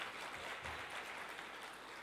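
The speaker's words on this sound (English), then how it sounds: "Ladies and gentlemen, a round of applause for the Honorable Minister for Road Transport," Audience applause at a government inauguration event for a road transport minister, a steady dense clapping that fills the whole moment at moderate distance with no voices over it.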